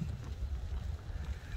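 Wind buffets the microphone outdoors in sleety rain, a steady low rumbling roar with gusty swells throughout, no voices heard.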